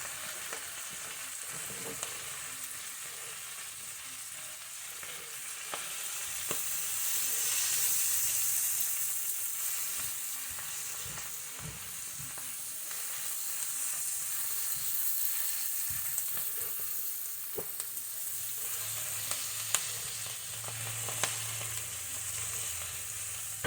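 Collard greens frying in a large pan, a soft, steady hiss of sizzling oil and steam with scattered faint taps and stirring knocks, moderately quiet and continuous, no one talking.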